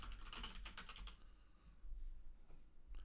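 Quick bursts of typing on a computer keyboard, with a dense run of clicky keystrokes at first, then a pause and a few scattered taps near the end.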